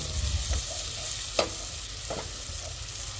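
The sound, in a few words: garlic and onion frying in a pan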